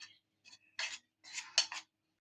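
Batter for potato and green chilli bajji being stirred in a bowl: several short scraping, tapping bursts of a utensil against the bowl, close and fairly quiet, with brief silences between.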